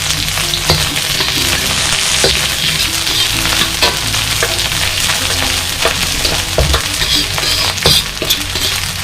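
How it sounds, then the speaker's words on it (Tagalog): Onions fry in a hot pan for a Filipino giant prawn (sugpo) dish, a loud, continuous close-up sizzle broken by occasional stirring scrapes and clicks, with no talking. "So guys, start na tayo magluto. Unahin na natin ang sibuyas."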